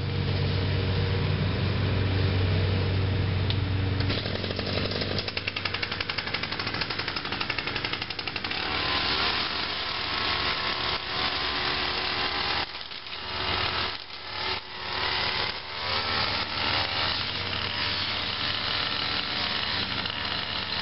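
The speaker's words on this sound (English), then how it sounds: "trimmer attachment is on, so let's get trimming." A string trimmer cutting lawn grass runs for the whole stretch, a loud, close, steady motor whine with brief dips where the line bites into thicker growth.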